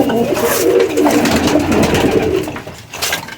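Rare-breed pigeons, including a Rampuri, coo close by in soft, rolling throaty calls that repeat and overlap without pause, with faint background noise.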